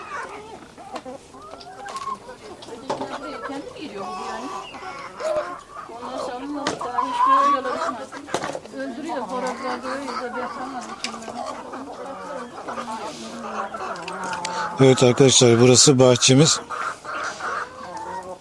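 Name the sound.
chickens clucking in the village coop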